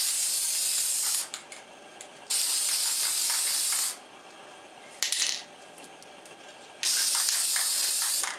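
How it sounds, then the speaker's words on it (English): Varnish hisses from an aerosol spray can in four bursts of one to two seconds each, bright and close, with faint clicks and rattles of the can between sprays. "Give it a good shake and then start spraying."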